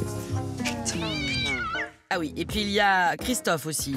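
A house cat of no particular breed gives loud, drawn-out meows close to the microphone, with someone speaking French over them.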